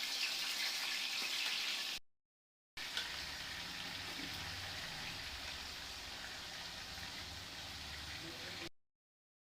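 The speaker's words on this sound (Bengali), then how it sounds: "তেল গরম হয়ে গেছে। এবার আমি মাছ দিলাম" Pieces of rohu fish fry in hot oil in a frying pan, giving a continuous hissing sizzle that runs steadily with brief breaks of silence.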